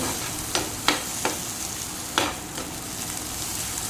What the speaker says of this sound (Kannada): ಇಲ್ಲಿ ಎರಡು ಟೊಮೆಟೊವನ್ನು ಕೂಡ ಸ್ವಲ್ಪ ಫ್ರೈ ಮಾಡ್ತೇನೆ